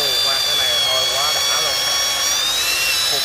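Dekton DK-710B power drill boring into wood, a loud, continuous high-pitched motor whine with slight pitch shifts as the bit cuts, with someone talking over it.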